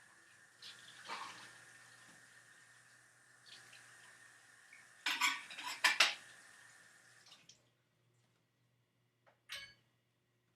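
A coffee pot is rinsed out in a sink: running water from the tap, then clattering glass and metal knocks and clinks near the middle, a short quiet gap and a final clank, with no talk.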